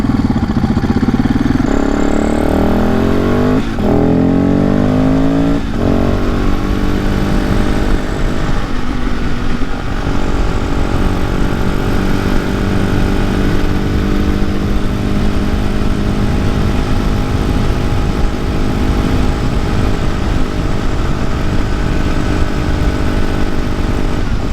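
Supermoto motorcycle engine ridden fast on fresh pavement, loud and close, revving up through rising pitch sweeps and gear changes in the first seconds, then holding a steady high-speed drone with wind roar.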